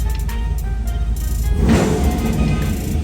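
A car with a swapped LS engine idles steadily, a continuous low rumble close by that swells briefly partway through, then settles back to a smooth running drone.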